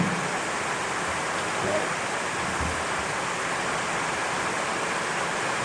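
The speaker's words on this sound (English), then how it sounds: "Jeez, it's pouring down outside." Heavy rain pours down outside in a steady, even wash of hiss that holds unbroken throughout, with no distinct drops or other sounds standing out.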